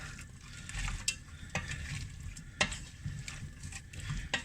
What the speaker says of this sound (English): Just mix those into the vegetables there.